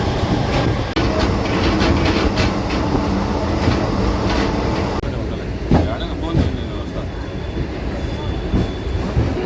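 A DEMU passenger train on the Nandyala to Renigunta line runs at full speed, a loud, steady rumble and rattle of the coach with sharp wheel clatter and a few squeals. The roar stays dense and close throughout.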